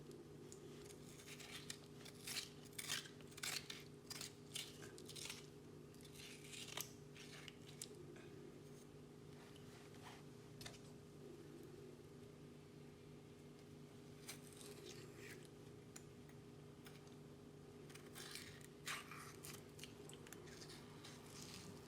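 A metal spoon scrapes the white aloe vera gel out of a leaf, giving close, wet scraping and squishy clicks in irregular bursts over a steady low hum, with no talking.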